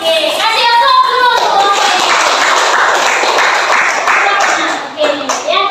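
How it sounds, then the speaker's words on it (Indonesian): Applause from an audience at the close of a teacher-training presentation in Indonesia, steady dense clapping that runs continuously and fills the room, with a few children's voices mixed in near the end. "Oke, kasih aplaus dulu."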